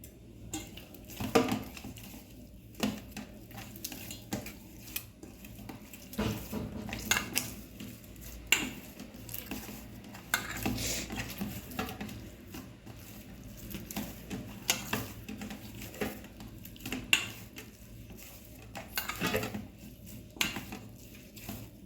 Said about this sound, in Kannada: ಈಗ ಇನ್ನು ಸ್ವಲ್ಪ ಎಣ್ಣೆ ಹಾಕ್ಕೊಂಡು ಚೆನ್ನಾಗಿ ನಾದ್ಕೊಳ್ಳೋಣ